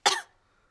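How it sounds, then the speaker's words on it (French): A cartoon pig gives a single short, close cough, sharp at first and then fading quickly into silence. "Mais regardez ce qui se passe quand je tousse."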